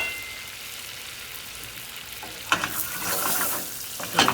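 Scallops sizzle in a pan of butter with garlic and thyme, a steady hiss that swells into louder crackling spatter as the pan is moved or basted, close and without talk.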